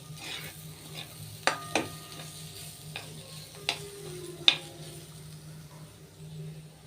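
Soft, steady scraping and light stirring of semolina dry-roasting in a pan, with a few sharp clicks of a spoon against metal, quiet and close.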